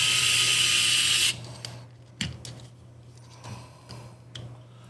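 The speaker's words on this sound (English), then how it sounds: "Let's get these screws in." Screws go into a Traxxas TRX4 chassis kit: a loud buzzing whir lasts just over a second, then gives way to scattered clicks and taps of parts being handled over a low steady hum.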